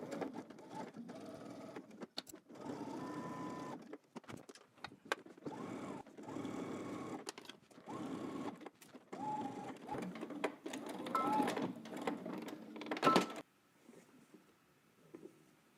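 A sewing machine stitches in the ditch along a waistband seam, running in several close bursts of steady mechanical whirring with short pauses between them, then stopping near the end.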